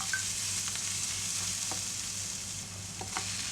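Roasted coriander and cumin powders with salt toast in a hot pan for a potato dish, giving a soft, steady sizzle with a few faint stirring scrapes. No one speaks.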